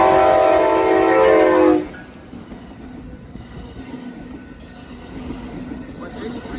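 An Amtrak Capitol Corridor passenger train passes Bayfront Park in Pinole, California, a loud horn blast for about two seconds, then a low rumble of the train rolling by at a distance.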